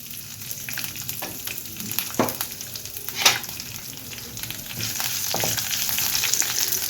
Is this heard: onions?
yes